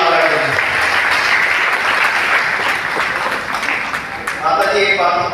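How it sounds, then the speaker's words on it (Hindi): Loud, sustained applause from an audience at a DXN business meeting in Basudebpur, honouring the guru, with steady dense clapping throughout and voices faintly mixed in. "एक जोरदार ताली हमारे गुरु जी और गुरु महाराज जी"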